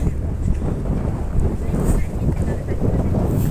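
Steady, loud wind buffets the microphone with a low rumbling roar that continues unbroken throughout, outdoors near a large docked ship.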